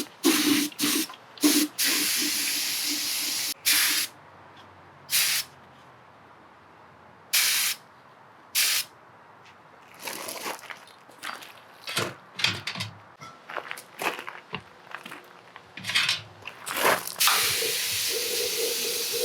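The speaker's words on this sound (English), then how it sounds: "I'm also going to spray the groove I already glazed inside" Glaze sprayed onto the top rim and groove of a wheel-thrown pottery fermenting crock, heard as repeated close hissing bursts of varying length with short pauses, the later bursts shorter and more clustered.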